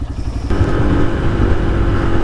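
A street-legal dirt bike engine fires up after a top end rebuild, a loud, close, rough single-cylinder idle that kicks in half a second in and keeps running steadily without throttle.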